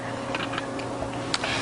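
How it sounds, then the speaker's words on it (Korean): A few light plastic clicks and beeps from heat buttons pressed on an induction cooktop, quiet and close over a low kitchen hum. "인덕션 8번 올려놓으시고요. 가열 버튼 눌러주십니다."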